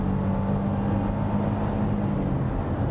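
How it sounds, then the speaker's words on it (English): A Smart fortwo's small engine revs hard toward its rev limiter, a steady loud drone with a strong low hum heard from inside the car, no voices over it. "Do you reckon I can bounce it off the limiter?"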